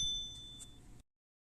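A single bright bell ding rings out over a low background hum, then cuts to silence.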